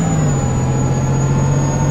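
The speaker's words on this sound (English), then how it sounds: "Wow, the roar of the engine is really loud." A MAN A22 city bus in the OMSI bus simulator gives a loud, steady low engine roar with a constant drone, held at even level throughout with no talk over it.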